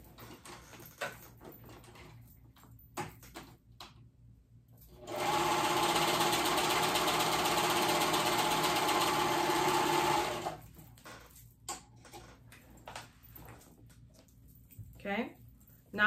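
Sewing machine running steadily for about five seconds as it stitches two fabric bands right sides together for paperbag pants, loud and continuous, with quiet handling noises and a bit of talk before and after.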